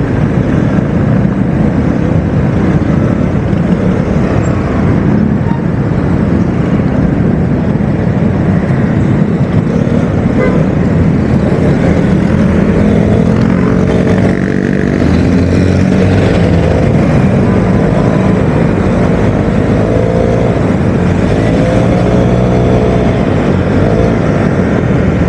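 A Vespa Sprint scooter cruises along a road in the early morning, its engine a steady drone under heavy, constant wind rush across the microphone, with no pauses or breaks.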